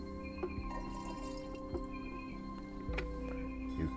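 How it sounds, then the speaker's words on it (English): Water trickles and drips into an unglazed clay olla pot, a buried garden watering vessel for raised beds, with soft wet splashes and a few sharper drip hits over a steady low background. "And now we fill up our Olla with water."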